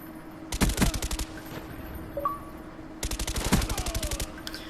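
Bursts of automatic gunfire in the video game Call of Duty Black Ops, two rapid strings of shots separated by a short pause, crisp and close.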